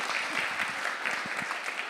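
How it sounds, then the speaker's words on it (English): A community organisation's annual general meeting audience applauds a board speaker named Jan, a fairly soft, steady patter of clapping from a modest crowd, heard alone without talk. "Applause for Jan."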